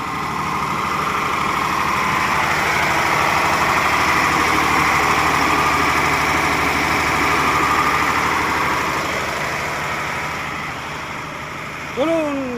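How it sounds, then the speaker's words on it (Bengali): A diesel generator powering pond irrigation drones in a steady, close, loud idle with a constant low vibration. It eases off slightly near the end, and a brief squeak is heard. "দেখুন ডিজিটা দেখুন।"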